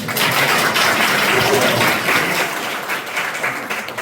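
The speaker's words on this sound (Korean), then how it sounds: "박수 한번 쳐주세요." An audience at a periodontology society academic conference gives a round of steady applause in a hall, strong at first and then tapering gradually toward the end.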